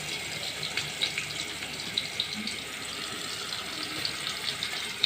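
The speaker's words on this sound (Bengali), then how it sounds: "পেঁয়াজটা দিয়ে দেবো তেলের মধ্যে।" Sliced onion frying in hot oil in a pan for a potato and lentil curry, a steady fine sizzle with small crackles and pops throughout, close and even.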